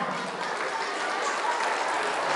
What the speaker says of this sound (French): On applaudit fort Aïssatou Sow,